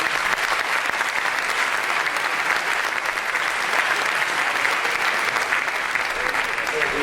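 An audience at a Milan film festival applauds, a dense and sustained clapping that stays loud and even for seven seconds.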